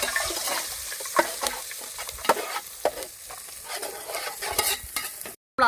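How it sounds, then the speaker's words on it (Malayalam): Green chilies, ginger and garlic tossed into hot ghee for a vegetable biryani, sizzling steadily with scattered stirring clinks and scrapes, close and fairly quiet, no talking. "നെയ്യ് നന്നായിട്ട് ചൂടായിട്ട് വന്നിട്ടുണ്ട് അതിലേക്ക് നമുക്ക് പച്ചമുളക് ഇഞ്ചി വെളുത്തുള്ളി"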